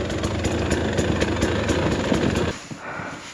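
A brand-new 2024 Husqvarna TE300 two-stroke motorcycle engine idles loudly and steadily close by, with a fast, rough putter, then drops to a quieter, uneven idle near the end.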